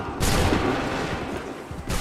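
A musket gunfire volley in Assassin's Creed III: a loud, dense burst of many overlapping shots that rumbles on, followed by another sharp crack at the end.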